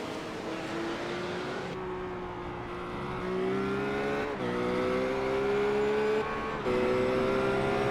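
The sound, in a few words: race cars driving in iRacing video game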